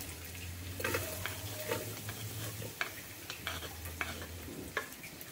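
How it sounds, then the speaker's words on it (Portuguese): Onion sizzles and spatters in a pan on a wood-burning stove, with scraping stirs and clicking utensil knocks over a low rumble, close and moderately quiet, no speech. "Acrescentar aqui a cebola."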